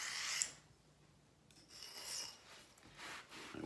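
A knife blade rasps across a coarse, hard sharpening stone in several short, quiet scraping strokes with pauses between them, and nobody speaks.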